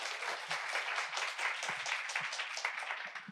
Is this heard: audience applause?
yes